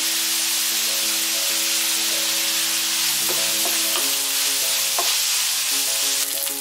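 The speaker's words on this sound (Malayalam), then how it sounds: "ഇനി നല്ലതുപോലെ ഒന്ന് മൂത്ത് വരണം ഇനി നമുക്കിതിലേക്ക് സ്വല്പം കറിവേപ്പില ഇട്ട് കൊടുക്കാം" Onions and curry leaves frying in a pan while a tuna roast gravy is prepared, giving a steady close sizzle with brief stirring scrapes and some clinks and tonal kitchen noise, with no talk.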